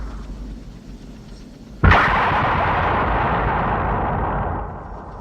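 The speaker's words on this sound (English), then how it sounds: "you hear that explosion it makes when it fucking smashes" A loud stock explosion sound effect from the film For Your Eyes Only bursts suddenly after a low rumbling background, then rolls on as a long, heavy roar that slowly fades.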